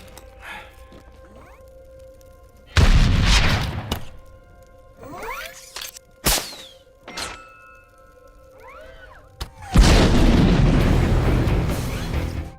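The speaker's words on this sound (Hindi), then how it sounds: "तभी उस पर एक मिसाइल से अटैक होता है" Several heavy booms and blasts from a missile attack in a film burst out in turn, with whooshing streaks between them and a long roaring explosion near the end.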